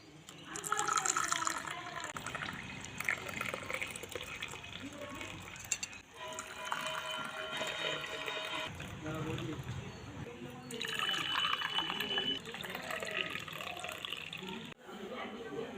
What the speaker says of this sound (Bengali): এখানে তিনটে কাপ নিয়েছি এবার চাটা ঢেলে নেবো